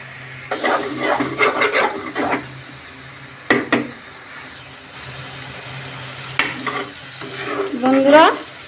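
Egg curry with potatoes sizzles in a pan as a spoon stirs and scrapes it in several separate bursts, with quieter frying hiss in the pauses between them.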